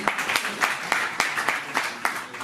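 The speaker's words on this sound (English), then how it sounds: "A big round of applause for Harjeet ji." An audience at a Mumbai festival announcement event claps for a guest, a modest round of applause with a regular pulse of louder claps, moderately near and without speech.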